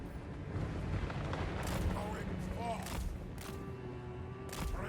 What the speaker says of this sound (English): Let the guns rip in.